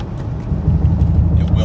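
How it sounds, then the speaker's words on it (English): A Mercedes truck drives in the rain, giving a brief, steady low rumble of engine and road noise heard from inside the cab, fairly loud and unbroken. "So I'm driving in the rain in a truck that's meant to be a truck"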